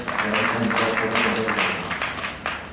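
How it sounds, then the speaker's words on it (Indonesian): Applause from an audience at a government organisation bureau meeting in Malang, a steady wash of many hands clapping for about three seconds, fairly loud and continuous with a faint voice underneath. "Aplaus untuk teman-teman"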